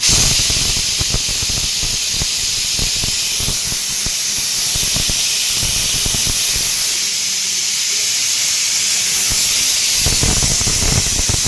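Semolina roasts in ghee for halwa, giving a loud, continuous, steam-like hiss with steady crackling and occasional stirring scrapes throughout.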